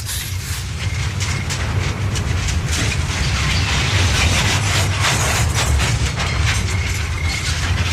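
A train starting to move rumbles loudly and steadily with dense mechanical rattling and faint clickety-clack, heard from close by with no speech.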